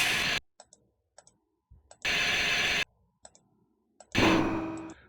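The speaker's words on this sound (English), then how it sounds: "That corresponds to move ambient sound, the sound that it makes while it's moving." Unreal Tournament 99 lift mover sounds: a loud mechanical start burst, a sustained whirring loop, and a heavy stopping clunk, separated by faint ticking clicks and near silence.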